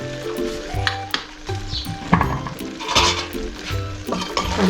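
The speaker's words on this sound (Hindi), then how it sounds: "अब ये सोया सॉस ऐड करेंगे।" Macaroni and vegetables sizzle and fry in a pan as soy sauce goes in, with steady frying hiss, metallic clinks of a spoon against the pan and stirring scrapes, close and moderately loud with no talking.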